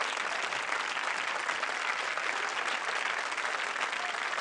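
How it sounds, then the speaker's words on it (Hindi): Sustained applause from a comedy show audience, dense steady clapping filling the whole stretch without pause, with no voices over it. "जोरदार तालियां"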